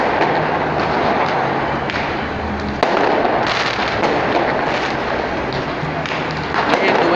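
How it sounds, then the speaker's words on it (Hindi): Fireworks are going off for Diwali along a main road in Dubai. Loud crackling bursts and sharp pops repeat nonstop over a constant roar from the crowd and traffic. "बेहतरीन पटाखे छोड़े जा रहे हैं।"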